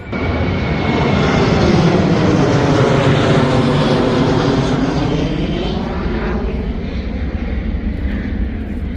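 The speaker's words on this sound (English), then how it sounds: "all the airplanes are taking off." A loud, steady roar of airplanes taking off, heard from a slippery hiking trail in Norway, fills the whole stretch, broad and rumbling, fading slightly toward the end with no voices.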